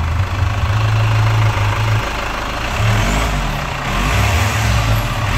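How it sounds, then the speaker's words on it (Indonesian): A Chevrolet Captiva facelift diesel turbo engine with a rough, knocking fault runs loud and close with a deep, uneven drone. The engine rises slightly in pitch as it revs, then settles. "Rpm. Dia ngoroknya 2000."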